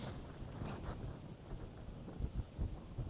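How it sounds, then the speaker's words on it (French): Wind buffets a microphone beside a canal in a Sydney neighbourhood, a steady low rumbling roar with gusty thumps that strengthen toward the end, close and moderately loud, with no speech. "Le vent."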